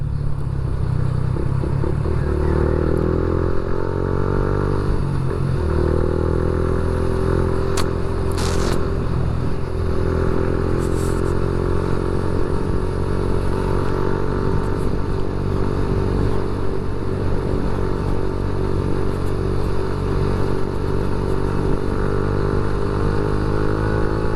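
A motorcycle rides along a road with a steady, droning engine hum and constant wind and road rumble, the pitch rising slightly as it accelerates, close and continuous for the whole stretch.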